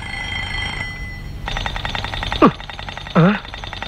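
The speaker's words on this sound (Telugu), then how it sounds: "నువ్వు అలారం సౌండ్ కి లేవట్లేదని" An alarm clock rings in a home in the morning, a loud steady bell-like ringing that starts partway through, joined by two sharp twangy boing-like sounds near the end.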